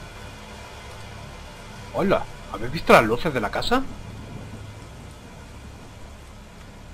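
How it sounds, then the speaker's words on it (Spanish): Rain from a thunderstorm in the video game Pineview Drive, a steady soft hiss running underneath someone speaking for most of the stretch. "Encima viene de muerte con este juego a la lluvia."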